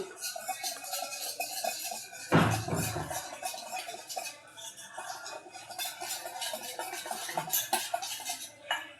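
A utensil stirs one cup of cornflour and one cup of water together in a bowl, making steady close scraping and light clattering, with one louder knock early on. No one speaks.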